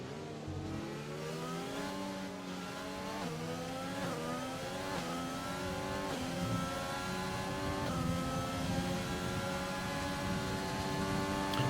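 Onboard race car engine in a racing game, the car running on medium tires: a steady, close drone that climbs in pitch through the gears, with brief dips at each upshift and no voices.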